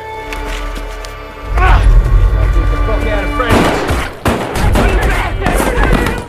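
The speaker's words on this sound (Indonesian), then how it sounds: "Sheriff Pete langsung menembak kakinya." Film gunfire as a sheriff shoots a man in the leg: a loud booming shot lands partway through, followed by further sharp bursts over a noisy, dramatic soundtrack.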